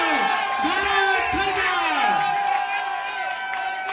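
A crowd at a Dashain party cheers and whoops for a sports team captain, loud and continuous, with shouted voices and scattered clapping mixed in.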